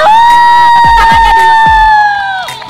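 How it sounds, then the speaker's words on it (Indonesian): A crowd cheers and shouts for a winner being announced at a night meetup event at Jember Town Square, the noise loud and sustained, with a steady musical tone running underneath. "Tepuk tangannya mana?"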